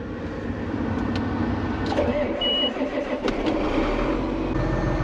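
A newly bought red tractor engine starts and runs at a steady mid-pitched idle, fairly loud and continuous, with faint voices in the background.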